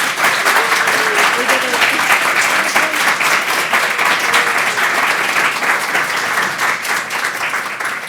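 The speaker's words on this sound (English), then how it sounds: "can we give this amazing panel a huge round of applause?" An audience gives a conference panel sustained, loud applause, dense even clapping from many hands that continues without a break throughout.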